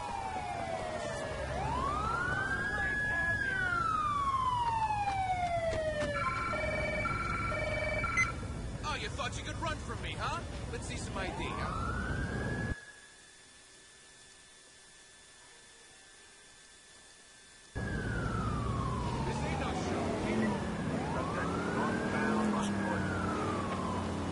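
Ambulance siren in GTA 4 with the LCPDFR police mod, wailing up and down in long sweeps, loud and close, with a few seconds where the sound drops out before the wail resumes, over traffic and someone talking.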